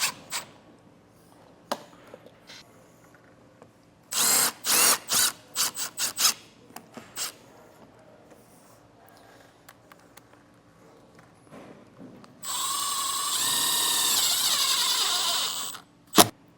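Power drill driving screws into a plastic mount for a Furrion Vision S+ wireless backup camera on a 2014 Prime Time Tracer RV: several short close bursts early, then a longer steady whir of about four seconds, with quiet gaps between.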